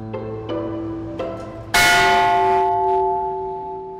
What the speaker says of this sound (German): In seinem Inneren gibt es nur noch eine einzige historische Glocke.